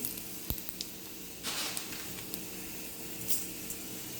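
Coriander seeds roast in a dry pan as the first step of a roasted-coconut sambar, giving a faint crackling sizzle with a few sharp ticks and a brief louder rustle of stirring.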